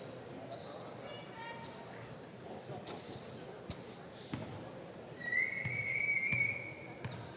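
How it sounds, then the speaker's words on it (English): Wolf whistles from spectators at a 5x5 women's basketball game between Kuala Lumpur and Johor, a bright rising whistle standing out near the end over crowd murmur, a bouncing ball and commentary. "Bit of wolf whistling happening on court."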